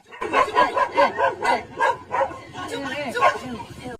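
A dog gives a rapid run of yipping barks and whimpering howls, close and fairly loud, in a busy rhythmic burst.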